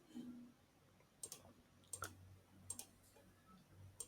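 Computer mouse clicks while selecting a line's midpoint in CAD software, heard as faint, sharp, separate ticks spaced about once every second against a quiet background.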